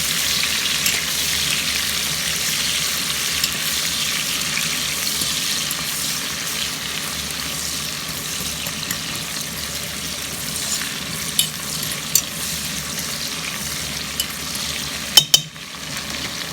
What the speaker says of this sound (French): J'ai doré mes oignons là.